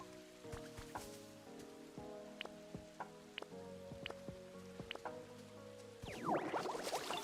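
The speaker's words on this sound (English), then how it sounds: "and I can help make it rain." Rain falls in the Pokémon game Pokopia. A soft patter of drops swells in near the end, after quiet tonal game music with light clicks.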